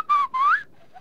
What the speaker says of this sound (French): Il siffle, il l'a trouvé.